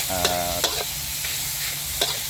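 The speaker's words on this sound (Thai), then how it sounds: "เดี๋ยวรวนหมูสักหน่อย ก่อน เนาะ ผัดหมูก่อน" Minced pork stir-fried in a pan, with a loud continuous sizzle and several sharp scrapes of a spatula stirring the meat. A brief tonal hum sits underneath at the start.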